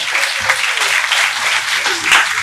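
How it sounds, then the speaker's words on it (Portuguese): A large audience at an evening event applauds loudly and continuously, a dense wash of clapping hands throughout with a slight swell near the end. "recibía con fuerte aplauso"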